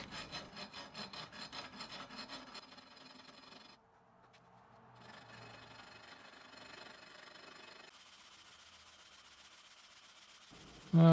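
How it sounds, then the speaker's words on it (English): Steady rhythmic rasping of coarse 80-grit sandpaper rubbed back and forth on a wooden guitar headstock face, close and continuous, with brief pauses and changes in stroke. "I'm going to begin sanding this flat with the face of the headstock"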